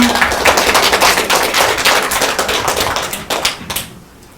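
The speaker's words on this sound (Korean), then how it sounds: "다시 큰 박수 부탁드리겠습니다" An audience at a Korean mothers' association conference claps loudly and densely, close and sharp at first, then thins out and fades near the end.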